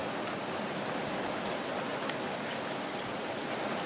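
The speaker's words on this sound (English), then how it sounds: "but it is pouring outside my window right now." Heavy rain pours outside a window in a dense, steady hiss that stays loud and even throughout, with no voices.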